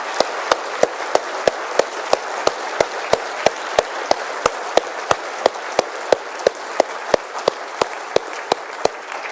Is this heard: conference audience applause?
yes